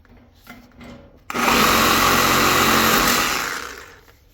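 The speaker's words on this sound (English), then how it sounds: "I got a sawzall here handy that'll get it though" Sawzall reciprocating saw biting through thick welder wire while scrapping an SA200 welder, a loud steady buzzing cut that starts abruptly after a quiet moment, holds for about two seconds, then winds down.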